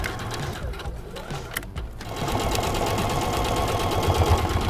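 A sewing machine runs steadily, stitching tote bag straps through thick interfacing, with a dense mechanical whir that picks up and grows louder about halfway through.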